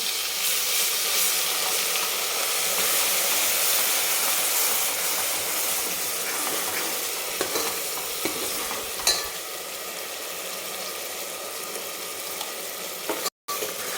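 Ground masala paste hitting a hot pan for a village-style mutton curry, loud steady sizzling and frying hiss throughout with occasional stirring clatter, no talking.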